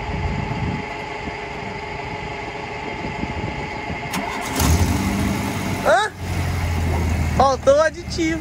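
A car bought at auction, with its radiator low on coolant additive, cranks over and fires up midway, then settles into a steady low idle while people talk close by.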